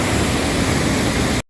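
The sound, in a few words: Scarface waterfall in western Iceland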